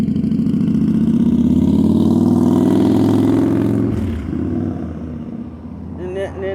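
A car on the street drives past right behind a motorcycle, its engine swelling into a loud close rumble and then fading away, with faint sounds afterward.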